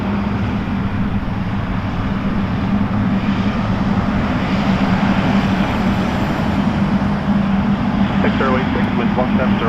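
An Air Canada heavy airliner at Toronto Pearson Airport takes off, its engines producing a steady, loud, broadband roar throughout, with faint radio chatter near the end.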